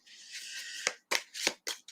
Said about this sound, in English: I'm going to shuffle the cards here